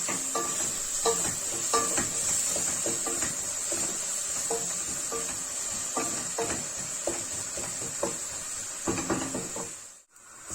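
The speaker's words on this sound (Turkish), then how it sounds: "yağda kızartacağız soğanla" Continuous sizzling of meat and onions frying in oil in a pan, with repeated scraping and stirring clatters and a brief utensil knock near the end.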